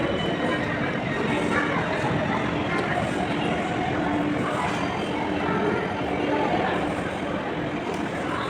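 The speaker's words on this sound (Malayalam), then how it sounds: "നമ്മളെ മെട്രോ എത്തിയിട്ടുണ്ട്" Metro train pulling into a station, a continuous loud rumbling roar of the train with a dense mix of station and crowd noise throughout.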